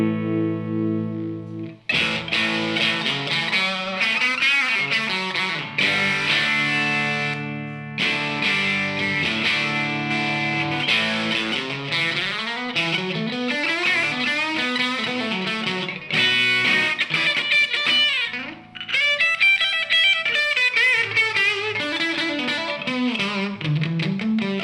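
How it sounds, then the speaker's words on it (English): VHT Special 44 tube guitar amp pushed into power-tube distortion, playing thick, saturated chords and riffs loud and continuous, with a couple of brief gaps, and no talking. "nice tube distortion, nice power tube distortion"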